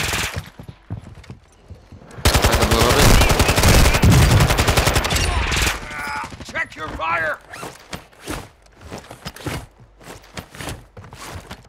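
Loud sustained automatic gunfire from Call of Duty: Modern Warfare II roars for about three seconds, then gives way to scattered shots, footsteps and game effects while players talk.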